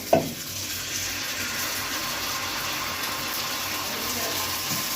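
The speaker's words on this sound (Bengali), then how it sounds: "তেলটাকে কিন্তু আমি পুরো তাওয়ায় লাগিয়ে নিচ্ছি খুব ভালোভাবে তো এরপর আমি ব্যাটারটা দিয়ে দিচ্ছি" Patishapta batter poured onto an oiled griddle, opening with a brief clank and then a steady, even hiss of sizzling that continues for several seconds without talk.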